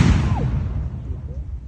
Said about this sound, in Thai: เสียงระเบิดดังสนั่นหวั่นไหวกลางป่าอ้อย